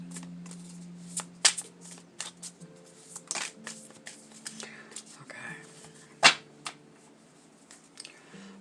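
Tarot cards are shuffled close up, a series of crisp riffling flutters and sharp slaps with uneven pauses, one especially loud snap near the end, over faint background hum.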